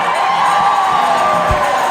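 A church congregation at a 25th anniversary gathering shouts and cheers together, a loud, dense wash of voices sustained without a break.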